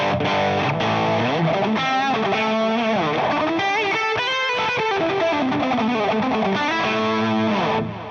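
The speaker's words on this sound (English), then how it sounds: "that's our distortion pedal." An electric guitar played through a Suhr Riot Mini distortion pedal, loud and alone, with a run of aggressive, hard-clipped, compressed chords and sustained notes for several seconds before the sound cuts away.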